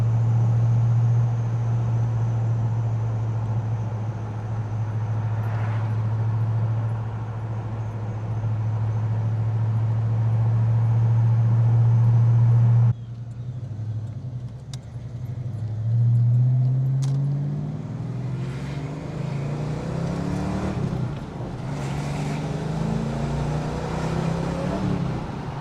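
A Ford Fox Body Mustang being driven gives a steady, droning engine note inside the car. Midway it cuts off sharply, then the revs climb again as if after a gear change.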